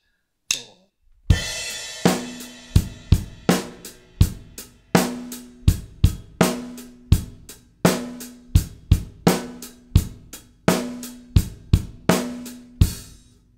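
A drum kit plays a simple money-beat variation in a garage-band style, with steady eighth notes over added bass drum hits. The groove is rhythmic, loud and close, with no talking.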